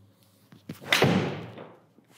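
A golf cavity back iron strikes a ball with a single sharp, solid impact, ringing briefly as it decays, with faint background sounds around it.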